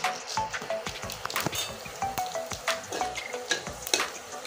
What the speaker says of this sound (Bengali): ফোড়নটা এখন লাল করে ভেজে নেব